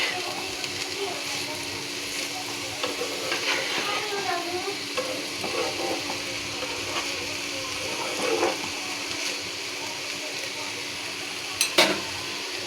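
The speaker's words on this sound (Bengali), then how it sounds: "ম্যাজিক মশলাটা দিয়ে ভালো করে নাড়াচাড়া দিয়ে" Food sizzles steadily in a pan as it is stirred with magic masala, a continuous moderate hiss with scraping stir strokes scattered through and a brief sharper clatter near the end.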